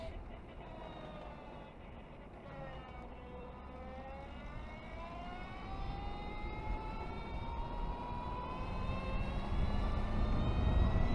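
A fixed-wing airplane passes overhead near trees, its rising and falling tonal drone growing gradually louder over road and wind noise heard while riding an electric motorcycle.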